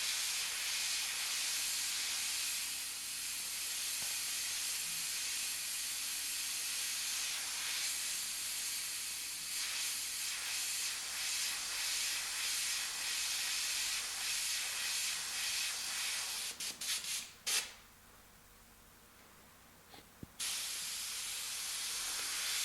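A paint airbrush hisses in a continuous fine spray held close to the surface, steady and fairly quiet, then cuts out briefly with a few short bursts before resuming.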